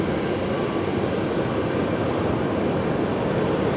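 A heavy jet airliner, an Airbus A350-900 from Auckland, approaches to land at Brisbane Airport, a steady broadband engine roar that stays loud and constant throughout with no voices.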